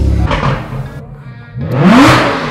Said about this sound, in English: You can hear the uh, cars revving in the back.